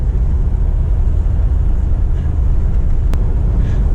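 Steady low-frequency road and engine rumble inside the cabin of a Mercedes G63 AMG on the move, muted and constant by sound insulation, with a brief tick near the end and no talking.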